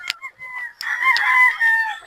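Chickens kept on a farm, with a rooster crowing in several drawn-out calls and some clucking, close and fairly loud with no talk over them.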